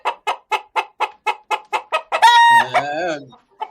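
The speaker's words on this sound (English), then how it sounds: "Just y'all hear some chicken songs" A chicken gives a fast, evenly spaced series of loud, close clucks, then breaks into a long, strained crow with a final short cluck after a pause.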